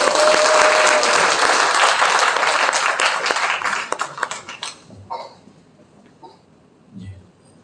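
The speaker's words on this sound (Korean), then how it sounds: "다시 한번 큰 박수 부탁드립니다" Audience applause at a political party labour committee launch ceremony in Cheongju: dense, loud clapping from a crowd in a hall that tapers off and dies away to scattered claps and room noise.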